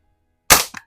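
Single shot from a Daisy No.107 Buck Jones Special air rifle, a sharp close crack followed by a brief faint rattle, loud against an otherwise silent background.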